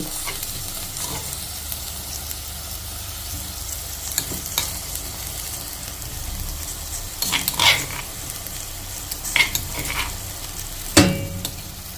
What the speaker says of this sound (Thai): สีขัวไก่ซะก่อน